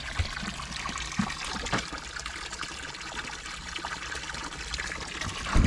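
Spring water trickles steadily into a container as people fetch water at a crowded natural spring, a continuous splashing flow with a few louder knocks and bumps, close by and without speech.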